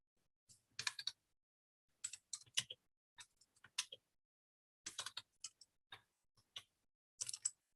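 Quick clusters of light clicks from a computer keyboard, typed close and fairly quiet in short bursts with pauses between words.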